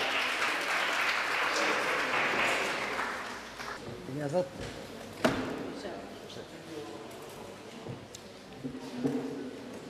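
A mushaira audience at Wimbledon applauds as poet Alok Kumar Shahjahani is welcomed to the stage; a brief burst of clapping fades within a few seconds into talking and scattered knocks.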